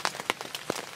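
Rain patters steadily on an outdoor surface on a mild morning at a hunting spot beside a food plot, scattered droplet taps rising and falling close by with no voices.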